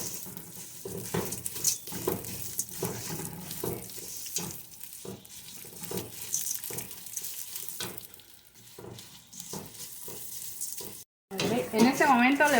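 Chopped onion sizzles and fries in a pot as the base for a Mexican chicken noodle soup, a steady close crackle with scraping and stirring, while someone talks over it.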